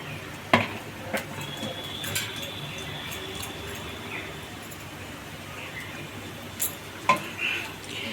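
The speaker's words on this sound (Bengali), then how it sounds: "এক পিঠ ভাজা হয়ে গেছে, আর এক পিঠ উল্টিয়ে দিচ্ছি যাতে ভাজা হয়ে যায়।" Fritters frying in a pan on a gas stove, a steady dense sizzle throughout with occasional scraping clinks of a utensil against the pan, close and moderately loud.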